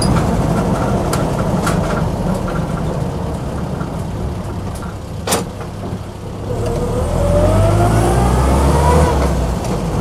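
A Land Rover Lightweight engine runs with a steady low rumble and broad mechanical noise, rising in a rev toward the end of the stretch, close and loud with no talk.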